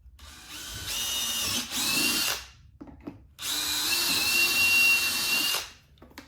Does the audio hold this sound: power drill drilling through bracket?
yes